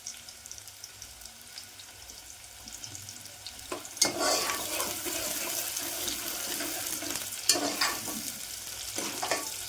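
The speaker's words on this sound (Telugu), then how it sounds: "ఉల్లిగడ్డలు అయితే వేసినాం. ఇక గోల్డెన్ బ్రౌన్ కలర్ వచ్చేదాకా అయితే మంచిగా కుక్ చేసుకోవాలి." Onions fry in hot oil for a home-cooked chicken curry, a soft, steady sizzle that swells from about four seconds into louder crackling bursts, with occasional stirring scrapes and no talking.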